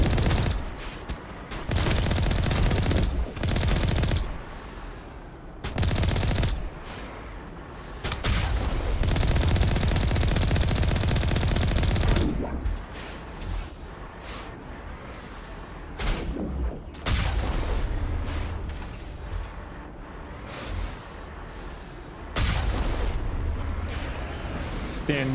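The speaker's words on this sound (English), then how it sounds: "Who's shooting me? Pirates?" Pirates open fire on the player in the video game Mass Effect, sustained bursts of gunfire and heavy blasts rolling on and off across the scene with brief lulls, talk mixed in underneath.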